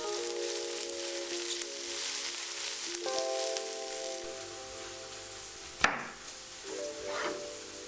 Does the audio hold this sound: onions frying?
yes